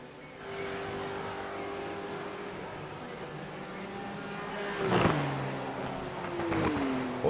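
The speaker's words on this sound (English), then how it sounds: "Absolutely sending it over the chicane there. Was that car fully airborne?" Race car at the Anzac 6 Hour, engine droning steadily with sustained tones, then a sharp surge and downshift midway and another rising rev near the end, moderately close.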